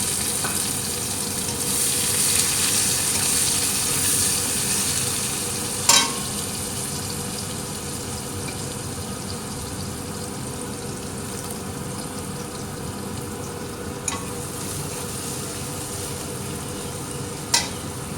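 Chopped onion fries with whole garam masala in a pan, giving a loud, steady sizzle throughout, with a few sharp clinks of a spoon as it is stirred.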